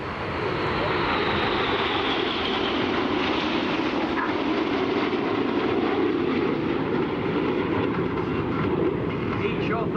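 RAF Red Arrows jets fly the Whirlwind manoeuvre at the Sanicole Air Show, a continuous loud roar of jet engines that swells slightly and holds for the whole stretch, with faint voices underneath.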